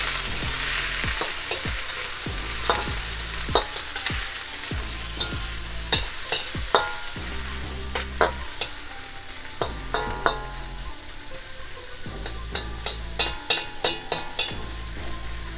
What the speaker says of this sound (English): we add our oil, we're going to add the veggies. Keep stirring and allow our veggies to get tender.